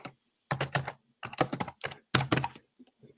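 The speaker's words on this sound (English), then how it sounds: "I'm just typing some answers in here, so it's a bit noisier." A computer keyboard clatters in quick bursts of clustered keystrokes separated by short pauses, close and fairly crisp, with no talking over it.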